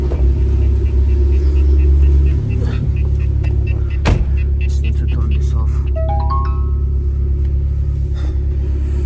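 A Mitsubishi Evo X with a titanium exhaust cruises at night, its loud, deep rumble holding steady from inside the cabin, with a short electronic chime and a faint voice over the drone.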